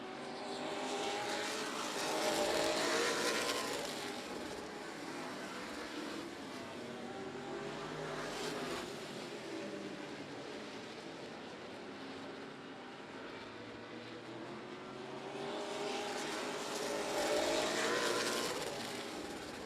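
Race cars run at Houston Motorsports Park, their engines roaring in swelling waves as they pass near and fade off, a steady loud drone with no voices.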